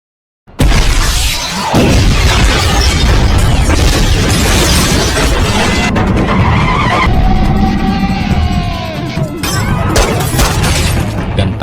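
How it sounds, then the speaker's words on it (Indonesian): A car skids loudly in a film action scene as a bazooka blast hits it, bringing a sustained roaring, screeching burst with crashing and shattering debris that carries on at high volume for about ten seconds. "Chrissy dengan tenang dan dingin meluncurkan sebuah bazooka ke mobil mereka"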